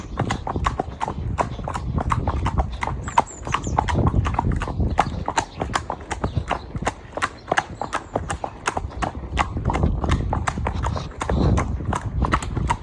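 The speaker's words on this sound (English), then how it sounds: "Let's have a trot, Nick, just to get to the end" A horse trotting out on a hack, hooves clip-clopping in a steady rapid rhythm, close and clear throughout.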